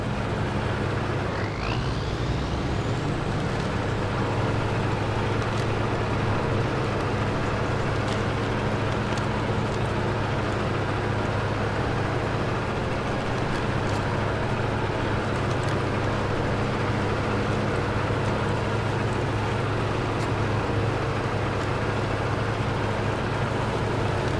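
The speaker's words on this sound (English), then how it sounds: "the APC here, it can just push through any mud, dirt, and grime" An APC truck engine in SnowRunner drones steadily as it pushes through deep mud, a continuous low rumble that holds at the same loud, close level throughout with no talking.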